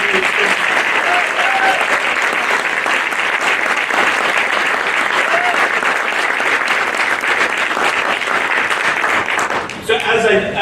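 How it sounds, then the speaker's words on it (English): Sustained applause from a sizable crowd at a senior center reopening and dedication, dense and steady clapping that carries on for about ten seconds before thinning out at the very end. "ask that we give a round of applause to Karen and her team"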